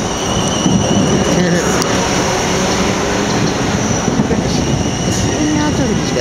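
A loud, steady roar of a train rolling through Clapham Junction station, with rumbling wheels and a faint high whine, continuous throughout.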